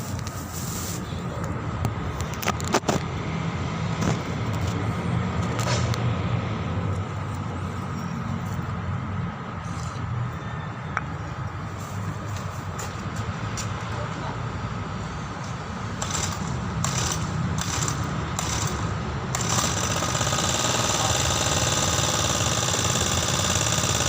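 A grass cutter engine running steadily after a choke start, a continuous buzzing drone held close and loud for the whole stretch, with brief clicks and knocks over it.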